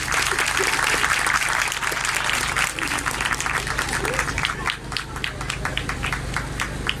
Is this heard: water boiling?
no